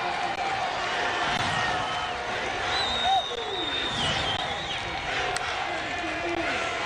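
Football stadium crowd at an Appalachian State at Georgia Southern game on third down, a broad murmur of many voices with scattered shouts and whistles, steady and somewhat distant, under a commentator's voice.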